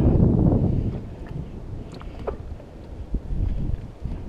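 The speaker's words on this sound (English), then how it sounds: "We're about a 20-minute boat ride from the marina." Boat motoring on open sea near the Catalina Islands, Costa Rica, some 20 minutes from the marina: a steady low engine rumble with wind buffeting the microphone, louder at the start and easing off slightly.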